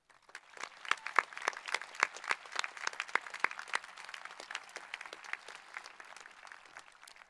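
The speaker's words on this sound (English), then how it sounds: "Please join me in giving them a round of applause." A graduation crowd at Poway High School claps steadily for several seconds, a dense, lively applause heard from a distance that tapers off toward the end.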